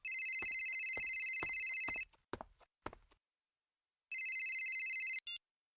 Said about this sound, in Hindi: इस सुनील को फोन करके देखते हैं, शायद वो अपना फोन उठा ले।